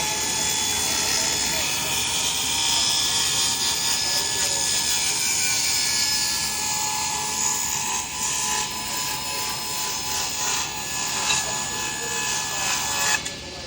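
A power saw cuts through wood in a shop as the piece is fed with a push stick, giving a steady, loud whine and rasp that holds for the whole stretch with slight dips near the end.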